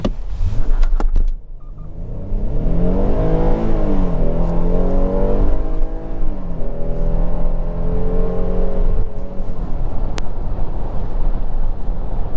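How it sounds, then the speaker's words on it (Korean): A Hyundai Palisade accelerates hard on a road in freezing winter cold. The engine note climbs loudly in a long rising roar and keeps building as the car pulls through the gears, with no talk over it. "급가속을 한 번만 해볼게요"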